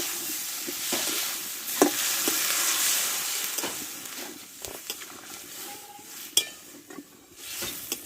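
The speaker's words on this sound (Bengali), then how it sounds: "এবার জলটা আমি দিয়ে দেবো সঙ্গে সঙ্গেই" Water hits a hot pan of frying potato and watermelon-rind curry, setting off a steady sizzle and hiss with occasional clinks and stirring scrapes, close and continuous.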